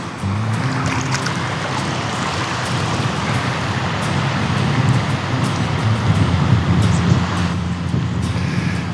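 Steady gusting wind rushes through a river canyon while fly fishing on the Pecos, a broad, continuous roar with low rumble and a faint water wash beneath, loud and unbroken throughout.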